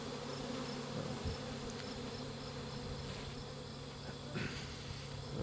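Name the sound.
honey bees buzzing around hives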